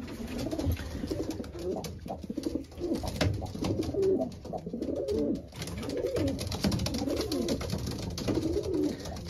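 Pigeons of a Belgian racing loft coo steadily during breeding season, several birds overlapping in low rolling calls. The sound is close and continuous, with wing flutters and light rustling, and no talk.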